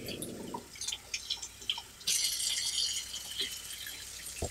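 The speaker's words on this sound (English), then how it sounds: "get some warm water and get my rags wet with water" Warm water runs and drips while rags are soaked before bathing a horse in winter. Scattered close drips and splashes lead into a steadier rush of running water, moderately loud, with no talk.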